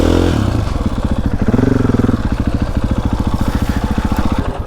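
Motorcycle on an abandoned track, its engine chugging in a steady rapid pulse close by, with a short rev partway through, no talk over it.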